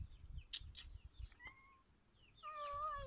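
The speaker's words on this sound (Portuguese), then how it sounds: "Ai, tem um gato aqui querendo comer." A hungry cat meows repeatedly nearby, a few short mews followed by a longer drawn-out cry, faint and close in a quiet garden bed.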